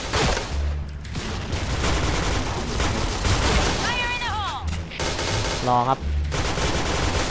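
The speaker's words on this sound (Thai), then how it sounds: "รอเขายิงกันตรงไหนวะเหมือนเขายิงกันทางซ้ายกันบ่อยมากเลย" PUBG gunfight with dense, rapid bursts of automatic gunfire running almost continuously, loud and close, while a player talks over the shooting.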